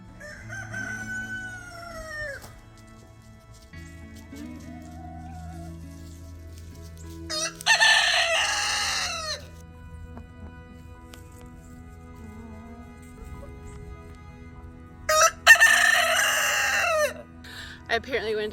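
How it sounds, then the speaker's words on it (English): Two loud rooster crows ring out several seconds apart over a low background hum, with faint chicken clucking in between, at a historic cotton farm in Juliette, Georgia. "I can hear the chickens down below."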